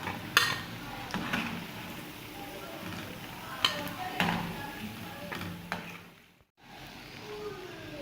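Homemade chocolate donuts frying in hot oil, a steady soft sizzle under scattered clinks and taps of a utensil against the pan, ending in a brief pause.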